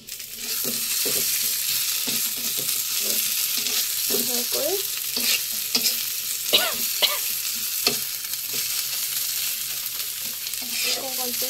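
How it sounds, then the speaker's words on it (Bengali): Onions frying in a pan while a dish is stirred, a steady close sizzle with irregular scraping and stirring knocks throughout, no voices. "আর এদিকে আমি পেঁয়াজটা ভাজিতে বসিয়ে দিয়েছি।"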